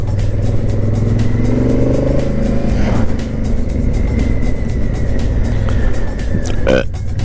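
A Honda Africa Twin motorcycle cruises along the Atlantic Highway toward Land's End, its engine droning continuously under heavy wind rush, with a brief rising rev near the end.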